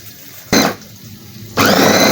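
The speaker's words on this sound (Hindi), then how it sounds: "अब इसको मैं बंद करके मिक्स करूँगी ग्राइंड" An electric grinder blending kofta ingredients runs in two loud bursts, a short whirring pulse, a brief pause, then a second sustained grind, close and harsh with no voices.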